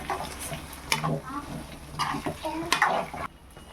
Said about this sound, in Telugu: ఇలా వేసుకున్న తర్వాత బాగా కలిపేసుకోవాలి